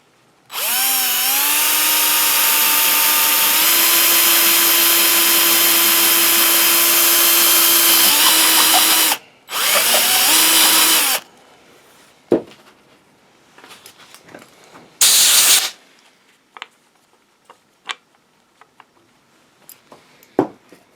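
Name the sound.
drilling with a 1-inch Forstner bit for a collar ring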